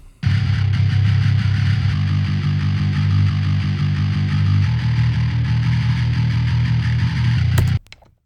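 A loud, heavily distorted bass synth plays alone in an electronic drop, dense and buzzing with a steady low drone and note changes, then cuts off abruptly.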